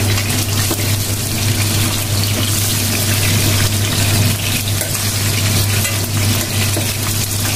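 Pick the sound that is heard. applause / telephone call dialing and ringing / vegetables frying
vegetables frying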